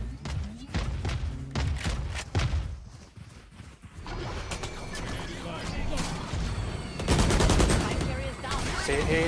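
Missile launches and gunfire in a video game come as dense bursts of rapid shots, thuds and blasts, loud and layered, with a heavier explosive surge near the end, while players talk over the action.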